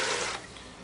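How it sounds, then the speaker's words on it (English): Six cups of water poured into a pan, heard as a brief rushing splash that fades quickly to a quieter trickle, with no voices. "we're going to put the 6 cups water into a pan"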